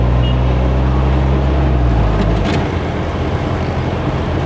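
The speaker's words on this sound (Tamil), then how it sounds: "அது இப்போ கடுமையான ஒரு டிராஃபிக்காக இருக்குது." Heavy road traffic in Colombo, heard from inside a van: a loud, steady wash of engine rumble and road noise, with a deep low drone that drops away midway, leaving dense broadband traffic noise throughout.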